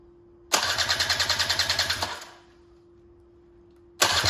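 An abandoned Honda Cub EZ90 motorcycle being cranked with the starter: a close, rhythmic chugging for about a second and a half that dies away without catching, then a second crank begins, over a steady background hum.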